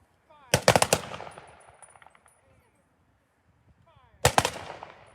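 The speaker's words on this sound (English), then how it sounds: "Prepare to honor all veterans, past and present. Ready. Aim. Fire." Rifle volleys fired by an honor detail at an American Legion Veterans Day ceremony, two sharp rolling bursts of several near-simultaneous shots, each trailing into an outdoor echo, with a shouted command before the second volley.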